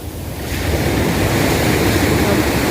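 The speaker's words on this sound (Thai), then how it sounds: "ดูคลื่นก็ซัดสาดเข้ามาที่ชายฝั่ง วันนี้ขึ้นมาสูง" Waves surge and crash onto the shore at Bang Saray beach, Sattahip, a loud steady roar of surf building in the first half second and then rushing on continuously, mixed with wind buffeting the microphone.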